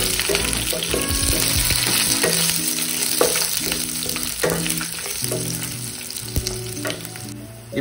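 Whole garlic, green chillies and curry leaves sautéing in oil for okra poriyal, a loud dense sizzle with stirring scrapes and occasional clinks of a utensil on the pan, close and continuous.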